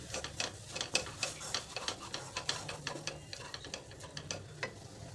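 Ground coriander, crushed dried fenugreek leaves, asafoetida and spices get mixed in a pan, a faint sizzle under rapid, rhythmic scraping and clicking of a spoon stirring close by, with no talking.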